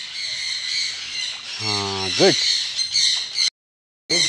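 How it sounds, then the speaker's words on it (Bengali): Parrots at a bird breeding farm let out a few loud, harsh squawks against a bright background of chatter, with a brief voice speaking nearby and a short dropout. "আমার ফার্মে যাওয়ার পরে কিন্তু প্রচুর হারে পাখি চিল্লায়।"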